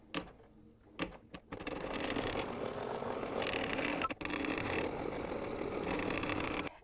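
Computerized embroidery machine stitching the batting placement outline for a quilted mug rug, a steady rapid whirring hum running continuously after a few brief clicks at the start.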